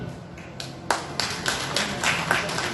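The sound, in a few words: audience clapping at an award show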